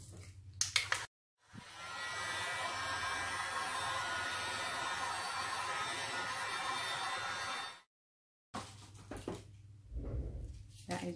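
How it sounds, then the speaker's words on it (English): A heat gun blows steadily over poured resin art with powder pigments, a loud broadband hiss running about six seconds after brief handling noises, then cutting off before faint clatter and movement. "So I'm just going to use my heat gun now."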